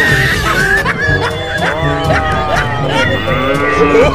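A walking toy cow's electronic mooing plays repeatedly over a busy background of music and chatter, loud and close, with pitched wavering moos.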